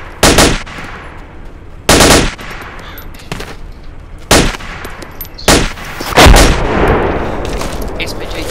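Loud, sharp bursts of gunfire in the ARMA 2 tactical military shooter: about five separate volleys several seconds apart, each a short crack or rattle over steady background rumble, the last running into a longer noisy stretch.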